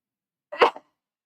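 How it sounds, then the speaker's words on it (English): A single short, sharp human sneeze sounds close by and alone, breaking an otherwise silent moment at a papercraft table. "Excuse me, that sneeze came out of nowhere."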